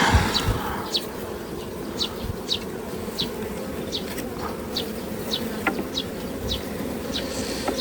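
Dense, steady buzzing of honeybees swarming around an open hive during an inspection, a continuous close hum with individual bees zipping past at regular moments.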